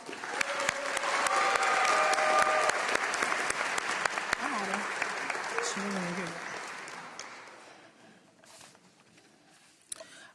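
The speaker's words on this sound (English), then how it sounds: "Can we give them another round of applause?" Loud, sustained applause from a crowd at a high school graduation ceremony honoring scholarship students. The clapping swells and holds, then fades to a few scattered claps, with a voice and camera shutter clicks heard through it.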